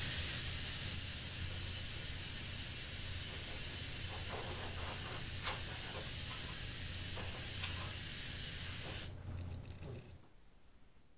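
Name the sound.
airbrush spraying gold paint on bass fish replica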